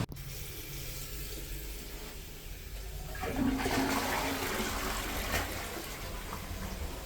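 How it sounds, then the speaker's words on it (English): Water rushing through a blocked church drain: a steady hiss of flow that swells louder a few seconds in and keeps pouring on evenly, with no voices over it. "we'll get some water flowing through this drain"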